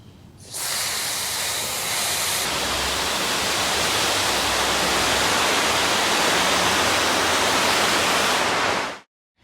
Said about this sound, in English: I'm gonna add water in the tray about 1/2 inch deep.